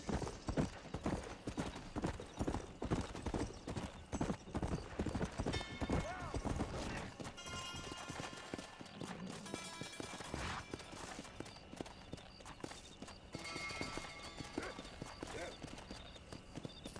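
Horse hooves clip-clop steadily in Red Dead Redemption, mixed under game music, ambient sound and a brief whinny, with voices talking over parts of it.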